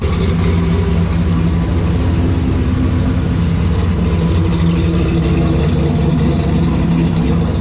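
A 2000-horsepower Fox body coupe with a 98mm turbo runs up close, its engine a loud, steady, deep rumble that carries unbroken from start to finish.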